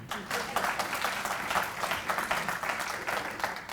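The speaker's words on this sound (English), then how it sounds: "Clap hands for TMALI." An audience applauds at an institute's tenth anniversary event, a steady rolling patter of many hands clapping at moderate loudness from start to end, with no speech over it.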